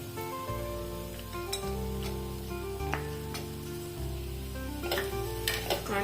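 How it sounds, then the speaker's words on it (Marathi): Dates and figs roasting in a pan are stirred, with a quiet continuous sizzle, a low steady hum and occasional light clinks and scrapes of a spoon. "आता हे खजूर थोडंसं भाजून झालंय, आपण ह्याच्यातच आपण थोडे अंजीर ऍड करूया"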